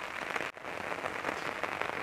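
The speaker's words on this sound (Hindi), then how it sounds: "बहुत तकड़ी बारिश पड़ रही है" Heavy rain pours down on farmland during the monsoon, making a dense, steady hiss of drops across the whole two seconds with a brief dip just before the midpoint.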